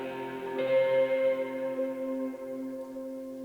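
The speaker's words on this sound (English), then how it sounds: "this is called the bridge guitar, and basically all it is just like the guitar playing slide notes" An electric guitar sustains a couple of sliding notes that glide and ring out, clean and moderately loud, fading slowly with no voices.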